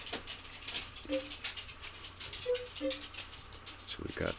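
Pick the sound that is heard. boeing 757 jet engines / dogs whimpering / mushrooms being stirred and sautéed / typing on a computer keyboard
dogs whimpering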